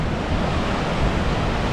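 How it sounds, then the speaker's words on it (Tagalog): Ocean waves crash on a San Diego beach near a pier, a steady, loud, broadband roar of surf that fills the whole stretch with no pause, with some wind noise on the microphone. "Ayan, sobrang alon."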